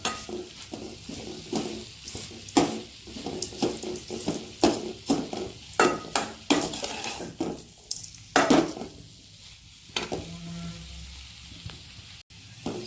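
Potato masala ingredients sauté in a pan while a spatula stirs and scrapes them, making repeated sharp knocks and scrapes against the metal over a light sizzle, close and uneven in rhythm.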